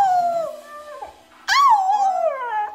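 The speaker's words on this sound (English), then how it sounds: "Sometimes like when you sing or like when you scream, that's when he howls." Husky howling in two long, wavering cries separated by a brief pause, the second starting sharply and sliding down in pitch, close and clear with no talk.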